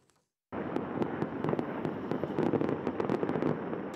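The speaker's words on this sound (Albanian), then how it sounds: "Fishek zjarët shpërthyen në Beograd" Fireworks go off in Belgrade after a parliamentary election victory announcement, starting abruptly as a dense, loud barrage of crackling bursts and sharp pops that continues without a break.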